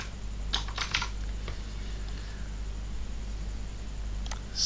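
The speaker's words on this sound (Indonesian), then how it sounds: "Lalu ketikkan sembarang teks di situ." Someone types arbitrary text on a computer keyboard to set up a Calibri 12 document, giving a few short, scattered bursts of key clicks over a steady low hum, close and fairly quiet.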